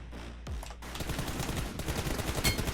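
Rapid gunfire in the mobile battle-royale game PUBG Mobile, striking an enemy: a dense, continuous spray of shots that fills the whole moment at steady, fairly loud volume.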